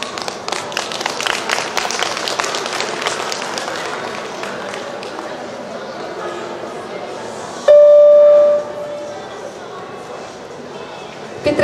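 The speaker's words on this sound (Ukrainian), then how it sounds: "Підтримайте оплесками." An audience at a Christmas song concert by a youth song theatre in Ternopil claps loudly and densely. The applause gradually thins and fades, then a short steady tone sounds near the end.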